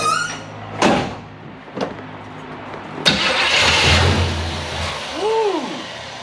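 A converted Chevrolet C30 dually pickup truck starts up after a few sharp clunks, then idles and revs as it drives off. The rumbling engine is close, with a rising and falling whine near the end.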